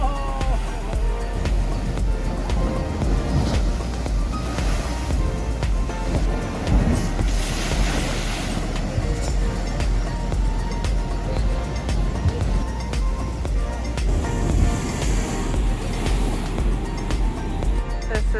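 Ocean waves surge into Thor's Well on the rocky Oregon coast, a loud, rolling roar of churning surf with rising swells and gusty wind buffeting the microphone throughout.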